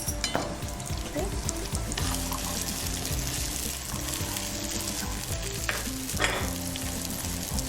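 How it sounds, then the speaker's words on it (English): Tomatoes sautéing in a pan for butter chicken, a loud, continuous close sizzle with bubbling and occasional stirring scrapes, no voices. "We saute this for a little while."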